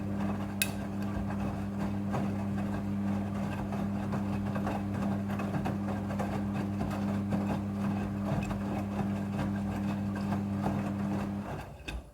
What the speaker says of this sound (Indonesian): ini adalah proses pemerasan cucian yang kedua